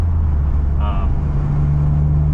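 Steady low engine hum and road rumble from a 2023-2024 Toyota GR Corolla on Eibach springs driving, continuous throughout, with a brief faint higher tone in the middle.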